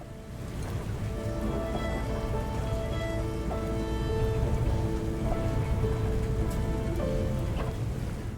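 Steady rain pours outside a window at night, a constant close hiss of drops on surfaces with faint scattered tones over it and no voices.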